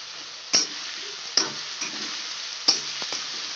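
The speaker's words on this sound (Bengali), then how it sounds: "ভালো করে এটাকে আদা রসুনটাকে কাঁচা গন্ধটা যেন না থাকে ভালো করে একটু কষিয়ে নেব।" Ginger, garlic and chopped green chilli sauté in a pan with a steady close sizzle, broken by three sharp scraping stirs of a spatula.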